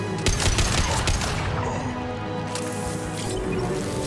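Rapid, continuous gunfire and dense bursts of shots in the Mass Effect 2 video game, loud and unbroken throughout, with no voices.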